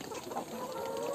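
A brown-feathered rooster gives a short, soft clucking call, close and alone against faint background noise.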